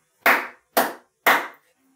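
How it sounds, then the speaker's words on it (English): Three sharp hand claps recorded in a kitchen, evenly spaced about half a second apart, each with a short reflective decay from the room. "This is what it sounds like recording in a kitchen."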